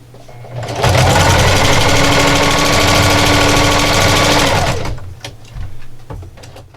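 Sewing machine stitching and backstitching a pie plate coozie, a loud close whirring run of about four seconds, then short stop-start bursts as it reverses, with no talk.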